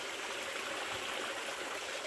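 A clear spring-fed mountain stream on Mount Makiling flows steadily close by, a constant bright rushing and trickling wash with no voices over it.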